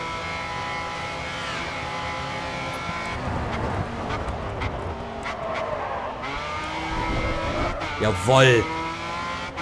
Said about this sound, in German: Was für ein Drift.